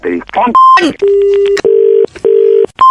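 Touch-tone telephone keypad beeps as a number is dialed, several sustained tones in quick succession, loud and close, with a voice talking briefly at the start.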